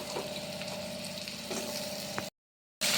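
Pumpkin, eggplant and other vegetables frying and being stir-cooked in a pan, with an even close sizzle and a few soft stirring knocks, then a brief sudden silence before the sizzle returns louder.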